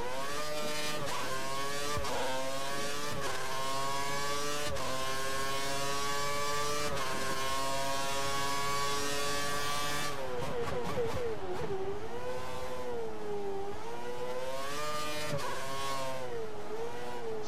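A Formula 1 race car from the F1 2013 game drives back toward the pits at Korea, its high-pitched engine holding a steady drone before easing off, shifting and rising and falling in pitch, loud and continuous.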